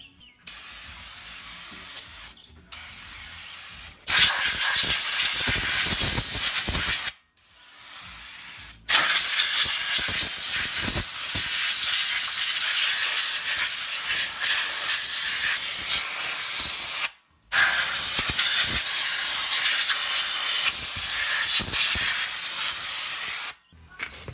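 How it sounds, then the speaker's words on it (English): Brake part cleaner blasts from an aerosol can onto the brake parts of an Infiniti Q50 in several long, loud hissing sprays broken by short pauses, close up and with no talking. "first I'm going to use some brake part cleaner"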